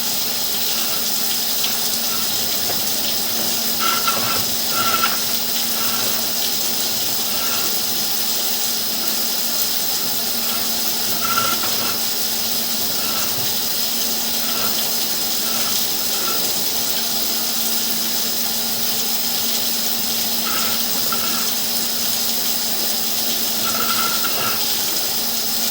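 Steady running water flows continuously, like a tap gushing, with a faint hum underneath and no talking.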